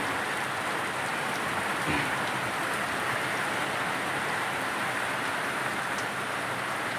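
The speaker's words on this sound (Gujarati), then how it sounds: "વરસાદ આવી ગયો" Steady rain pours down without pause, a dense even hiss of drops close by on every surface.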